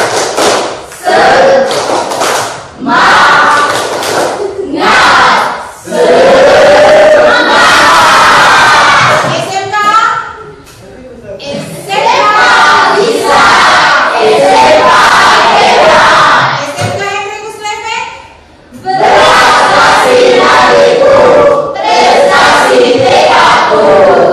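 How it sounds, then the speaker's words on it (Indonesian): A Year 12 multimedia class in Indonesia performs a loud spirit clap chant, bursts of rhythmic clapping and shouted voices in repeated segments with short pauses between them. "Seperti yang kali lalu, tepuk semangat."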